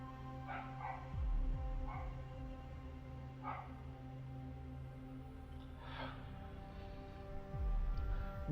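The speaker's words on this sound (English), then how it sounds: "The freaking dog is barking like there's no tomorrow." A dog barks repeatedly in irregular bursts, moderately close, over a steady low hum of background noise.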